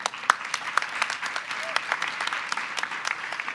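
An audience at a Hall of Fame ceremony claps, a dense patter of applause filling the room, with voices talking over it.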